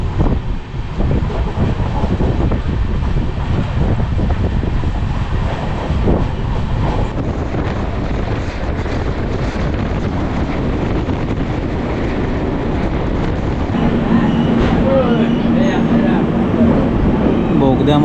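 Konkan Railway train at Saundal station, with a steady loud rumble and rattle of carriages close by, wind buffeting, and people talking over it.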